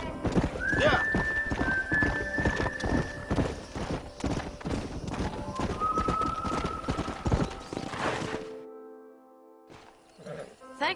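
Horse hooves clip-clop in a steady, busy rhythm in the Red Dead Redemption game, broken by two loud neighs and whinnies, then fading into near quiet before a brief return of movement.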